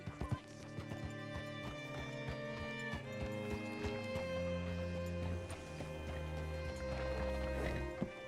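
Rhythmic horse hooves clip-clopping at a steady pace over a soft musical background in Red Dead Redemption 2, with an occasional snort, fairly quiet throughout.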